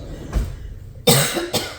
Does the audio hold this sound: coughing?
yes